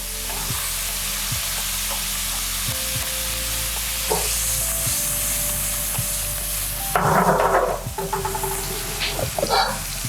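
Butter melting in a pan as the base for a chilli prawn hotpot sauce: a steady, loud sizzle with soft periodic ticks, then louder bursts of spattering and scraping toward the end as the pan is stirred.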